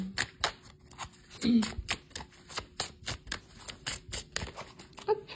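Tarot cards shuffled and handled during a card reading, a quick run of crisp riffling flicks and soft slaps at close range, with brief quiet speech in between.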